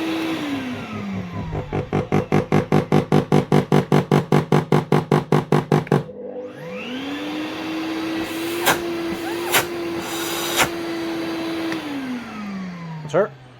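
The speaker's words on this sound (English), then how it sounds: "One Bosch hoover up and running again with a new control board." A Bosch GAS 25 SFE vacuum, freshly fitted with a new control board, pulses on and off in rapid bursts, then spins up into a steady loud whine broken by a few sharp clicks before winding down.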